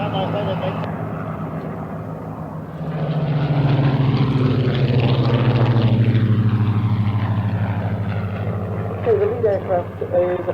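A Supermarine Spitfire Mark II-A's propeller engine swells from a distant drone into a loud, sustained roar as it passes close, then fades, with a voice speaking over parts of it.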